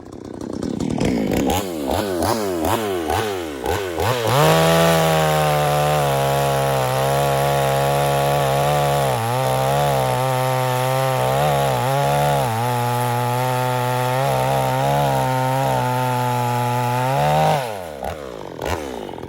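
A Perla Barb V4 62cc chainsaw cuts slices from a piece of very hard wood. It revs up in rising surges, then holds a loud, close, steady cutting drone with slight dips before winding down near the end.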